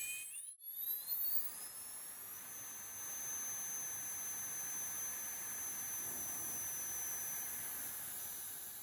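A jet turbine fan powered by lithium-ion supercapacitors spins up with a rising high-pitched whine that settles into a steady, fairly quiet jet hiss that carries on for several seconds.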